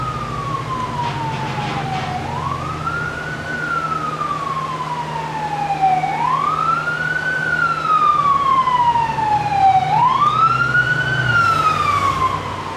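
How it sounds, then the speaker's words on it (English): Emergency vehicle sirens wail in repeated rising and falling sweeps and grow louder as they pass nearby, over a low steady rumble of traffic. "Uh-oh, your sirens."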